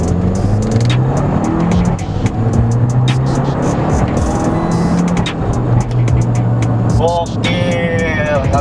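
A 2013 Fiat Abarth 595 Turismo accelerates hard up through the gears, its loud buzzing engine rising and dropping with each shift, up close, with someone speaking over it.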